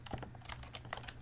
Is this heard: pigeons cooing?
no